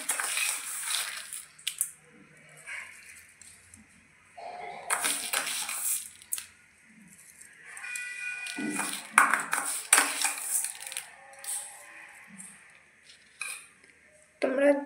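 Carrot barfi mixture with sugar being stirred in a pan: intermittent scraping and clinks of a spoon against metal, separated by quiet gaps, close and moderately loud.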